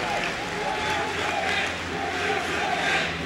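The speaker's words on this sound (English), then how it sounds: "You hear the crowd." Loud crowd cheering and shouting at a Super Smash Bros. Melee esports match between Mew2King and Leffen at MLG Anaheim, a dense roar of voices that swells and holds steady throughout with no clear words.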